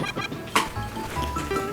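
Bird enemies squawk and cluck in the Super Mario Bros. Wonder game, short close chirpy calls scattered over under two seconds, with a brief bright squawk in the middle and no talking.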